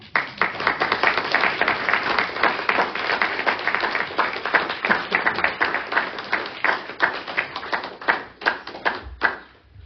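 An audience at a poetry reading applauds steadily for the readers, a dense, close wash of many hands clapping that holds for around nine seconds and thins out toward the end.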